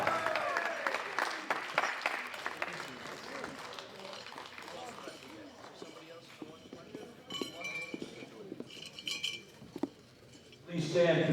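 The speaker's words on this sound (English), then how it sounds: "Big round of applause for Finland, Mikko Sekula!" An audience claps for a powerlifting champion at the World Classic Powerlifting Championships, scattered hall applause with sharp claps and clinks, fading and rising again, mixed with talk.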